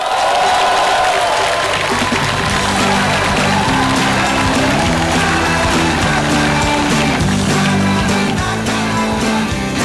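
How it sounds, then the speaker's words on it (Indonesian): An audience at a comedy stand-up show applauds and cheers for a guest, a loud sustained wash of clapping and crowd noise mixed with music tones underneath, continuing for the full stretch. "Saudara-saudara, beri tepuk tangan yang meriah untuk Mario Teguh."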